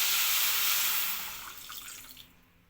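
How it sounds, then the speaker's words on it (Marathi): Water poured from a bowl into one cup of sugar in a kadhai to make syrup for Mysore pak, a steady close splashing pour that fades out as the stream stops, with no talk. "त्यामध्ये थोडंसं पाणी घालून घ्यायचं."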